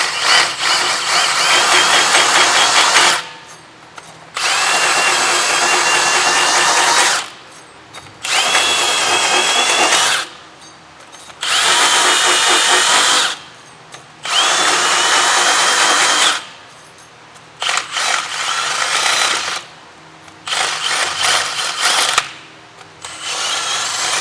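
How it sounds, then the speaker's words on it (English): A power-driven brush scours the front wheel hub of a 2014 Mazda CX-5 during a brake job: loud, close whirring bursts repeat about seven times, separated by short pauses. "now with the brush, we're gonna go ahead and clean the hub"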